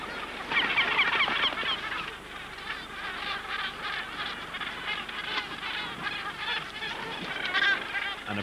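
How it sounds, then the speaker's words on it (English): Northern gannets at a nesting colony on an island give a harsh, repeated honking call during the sky-point display, loud and near, with a chorus of other birds behind it and no speech. "The sky point is accompanied by a call."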